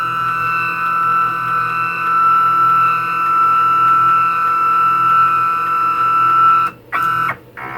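A woodworking jointer runs with a steady, loud machine whine and high tonal hum, then cuts out briefly twice near the end.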